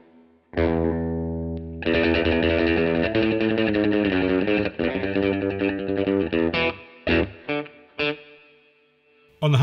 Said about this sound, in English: And spring reverb.